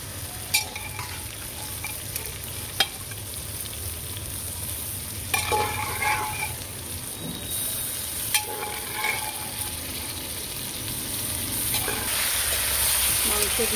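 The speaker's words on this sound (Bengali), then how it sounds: "ভালো করে নেড়ে আমি কষিয়ে নেব।" Mutton with potato and papaya stir-fried in a pan, a steady sizzle running throughout with occasional sharp scrapes and clinks of the spoon against the pan.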